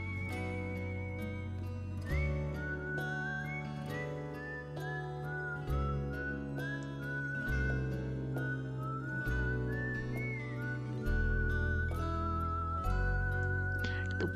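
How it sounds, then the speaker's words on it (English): Whistled melody over a steady backing track plays as the closing outro music of the PS2 role-playing game Wild Arms 3, the tune wavering and sliding continuously through the full stretch with no voices. "The whistle outro, the best outro."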